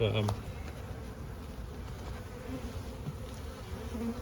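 Honeybees hum at their hive in a steady, close drone, with a low background rumble and a brief clatter at the start.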